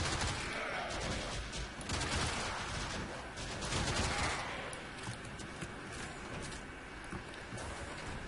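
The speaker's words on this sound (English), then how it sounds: "I know that they're shooting me" Enemy gunfire in Warframe on Mercury, sustained crackling bursts of automatic fire at moderate distance, continuous and layered through the whole stretch without a break.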